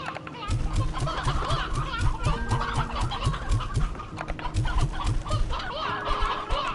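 Chickens in the Slime Rancher 2 video game cluck busily and repeatedly in quick, overlapping bursts, loud and close, with a person talking over them.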